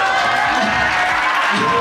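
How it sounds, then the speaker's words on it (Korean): Middle school students at a school in Busan cheer loudly, a dense, continuous roar of young voices shouting together throughout, close and filling the space. "중학교들 중에 이거 환호가 제일 큰 것 같아요."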